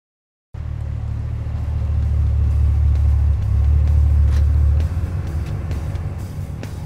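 A Corvette sports car drives through Bowling Green, Kentucky, its engine producing a steady, loud, close low rumble that swells and then eases off slightly near the end, with no talking.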